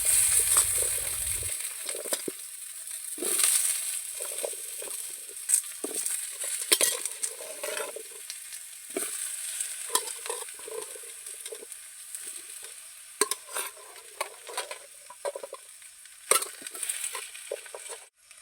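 Cempedak vegetable dish cooking in a pan at a riverside camp in the Kalimantan interior, with intermittent stirring scrapes and a soft sizzle over faint background hiss, no talk.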